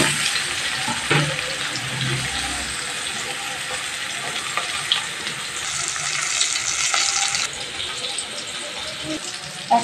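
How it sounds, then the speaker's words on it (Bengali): Boiled potatoes coated with salt and turmeric fry lightly in a pan for egg curry, giving a continuous hissing sizzle that swells in the middle, with faint kitchen clatter. "আলু নুন হলুদ মেখে একটু হালকা করে ভেজে নেব"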